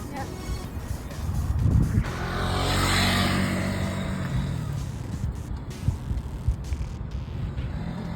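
A car drives a timed cone course in an Ontario licence test, its engine rumbling and rising as it speeds up, then easing off as it brakes, with talk over it.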